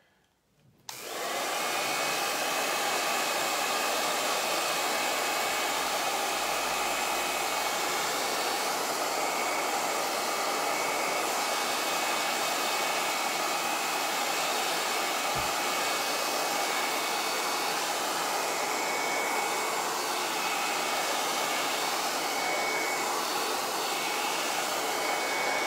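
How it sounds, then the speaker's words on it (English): Hair dryer switched on to dry paint at a paint party, a loud continuous whooshing blower roar that starts abruptly and holds steady throughout, close and alone. "I'm going to go ahead and blow dry mine, and then Lily's going to blow dry hers"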